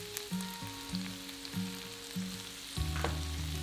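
Dried oregano, minced garlic and tomato puree sizzle and fry in hot oil in a one-pot pan, a steady close crackle alongside a repeating electronic beeping pattern.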